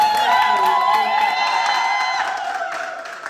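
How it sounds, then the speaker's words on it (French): A church congregation, gathered with couples for a wedding, applauds and cheers together, a loud dense crowd noise with bright sustained tones and whoops throughout, easing slightly toward the end. "Dieu vous bénisse, applaudissez pour vous."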